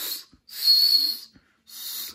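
Three breathy, airy whistle blasts, each about half a second, separated by short pauses; the blowing sounds hissy rather than a clean tone.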